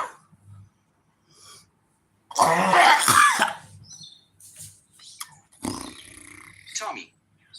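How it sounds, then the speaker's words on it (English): A person coughs hard after taking a hot dab of THC concentrate, one loud harsh burst of coughing followed by a second shorter fit, with quiet breathing and brief speech between. "That makes you cough so much."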